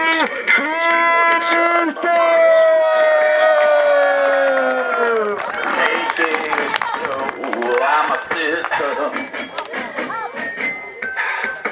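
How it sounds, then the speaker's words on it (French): Wrestling event crowd at a CWF show cheering and applauding loudly, a dense roar with shouts and whistles, while sustained tonal music plays prominently over the first half; an announcer's voice is heard amid the noise. "Mesdames et messieurs, un tonnerre d'applaudissements pour"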